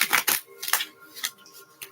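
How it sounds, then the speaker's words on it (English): A deck of cards being shuffled in short, crisp bursts of riffling and slapping, several separate quick flurries close up and fairly quiet, with no talking. "These cards will not shuffle for some reason."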